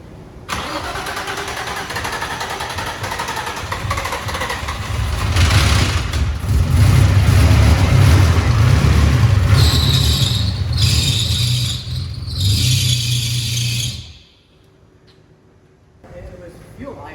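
Turbocharged Nissan G35 engine cranks and fires for its first start, settling into a rough idle, then the throttle is lightly tapped for short revving bursts before it cuts out; voices talk nearby.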